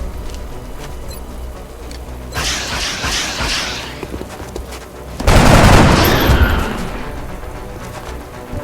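Gunfire in XCOM: Enemy Unknown, two bursts of loud rapid shots with booming impacts, the second heavier and longer, between quieter stretches of ambience.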